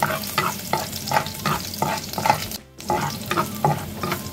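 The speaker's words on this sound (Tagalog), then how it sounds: "At yan, igisa na po natin ang ating chop na bawang." Five cloves of chopped garlic sautéing in oil in a pan, a steady loud sizzle broken by regular scraping strokes of a spatula, with a brief quiet gap midway and no talk.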